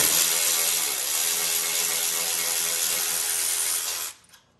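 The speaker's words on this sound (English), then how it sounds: "use your ratchet to let them thread out" Bolts are unthreaded with a ratchet from a front frame stiffener on a 2021 RZR Trail Ultimate, giving a steady, dense metallic buzz that runs near and loud for about four seconds, then cuts off abruptly.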